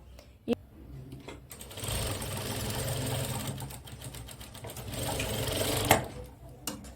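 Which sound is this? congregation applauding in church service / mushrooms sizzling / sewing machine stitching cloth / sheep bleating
sewing machine stitching cloth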